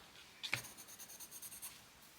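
Woomer Lightfast coloured pencil stroking across dark paper, a quiet rhythmic series of soft scratchy strokes after one sharper tap, close and faint with no talking.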